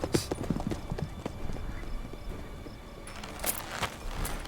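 Horse hooves clip-clop in a steady rhythmic gait in the video game Witcher 3, fairly close and moderately loud over a low ambient game backdrop, with a faint whinny-like tone.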